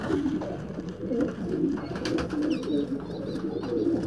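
A pigeon sitting over a newly hatched quail chick coos in soft, low repeated phrases, close and steady, with faint chirps mixed in.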